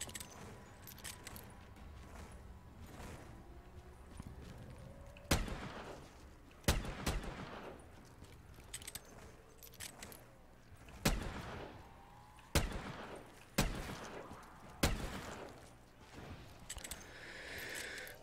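Black Ops 3 video game gunfire on a custom zombies map: repeated loud, punchy shots at irregular intervals over a continuous background of game ambience and effects.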